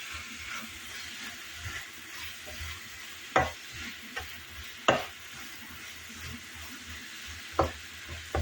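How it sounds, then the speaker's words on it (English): Fried cabbage sizzles steadily in a pot, with several scraping stirs and occasional clanks of the spoon against the pot over the continuous frying hiss. "This I would call it a fried cabbage."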